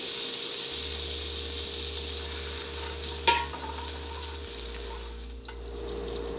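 Earth Balance vegan butter sizzles hot in a pan, a close, steady hissing fry that carries on throughout, with a brief clatter partway through.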